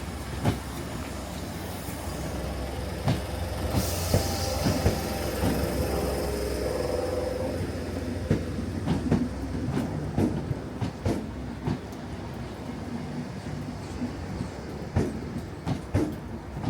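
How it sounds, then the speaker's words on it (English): A ScotRail Class 320 electric multiple unit train runs along steadily, heard from on board with a continuous rumble, repeated rail joint clicks and a brief rising whine early on. "we're now on board this Class 320 electric multiple unit"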